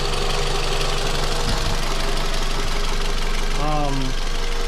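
A Scion tC car engine with low compression idles steadily with a low, constant rumble and faint knocking, close by, with a brief mechanical whine near the end.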